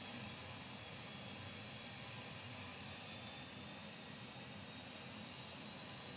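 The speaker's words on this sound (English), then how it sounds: "we can start cranking the engines" Steady, faint jet engine whine and hiss as an engine is cranked up in a flight simulator, a continuous even roar with no talk.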